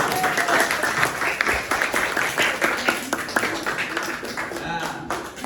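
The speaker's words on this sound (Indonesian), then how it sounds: "Tepuk tangan." A classroom of students breaks into applause with sharp, close hand claps in a dense burst that thins out toward the end, while voices talk over the clapping.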